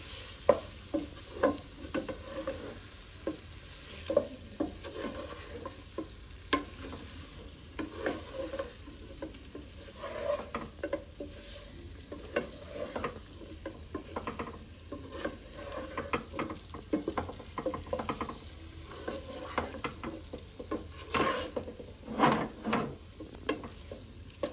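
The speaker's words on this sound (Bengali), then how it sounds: "এর মধ্যে মশলা মাখানো পেঁপেটা দিয়ে দিচ্ছি। এবার নাড়াচাড়া করতে থাকবো।" Spiced raw papaya for a pickle being stirred as it fries in a pan, with steady sizzling and frequent scraping, clattering strokes of a utensil throughout, close and fairly even with no voices.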